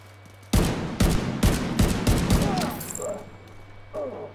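Gunfire in The Division 2, a rapid series of loud, close bursts of shots in quick succession, trailing off into faint distant reports and background noise.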